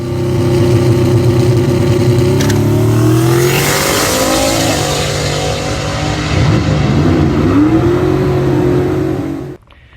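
A turbocharged 5.3 LS Mustang makes a drag racing pass at Casper Raceway, its engine roaring loud and close as it climbs steadily through the gears for nearly ten seconds before cutting off abruptly.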